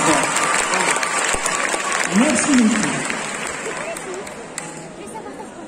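An audience at the Art To Play Nantes 2021 cosplay contest claps steadily and heavily, a broad wash of applause with faint crowd murmur; a voice briefly speaks over it midway before the clapping tapers off.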